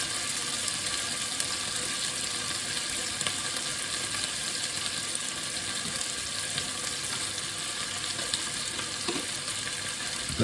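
A Spanish chicken sauce with tomato and a splash of water sizzles loudly and steadily in a pan, a dense continuous hiss with occasional stirring scrapes, close up and without talk.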